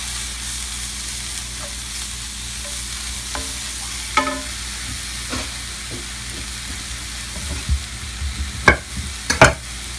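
Stinging nettles cooking in a pan, a steady low sizzle with occasional stirring scrapes and clinks that grow busier toward the end, heard alone with no talk.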